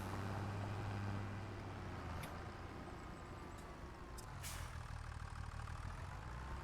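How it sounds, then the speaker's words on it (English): A tractor engine runs steadily in Farming Simulator 25, a low continuous drone with a few faint clicks over it and no talking. "We're going to grab this tractor and we're going to get going over here."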